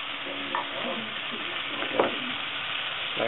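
Butter sizzling in a pan while a liver steak is being made, a steady close frying hiss with a few stirring scrapes and soft clinks, no talk.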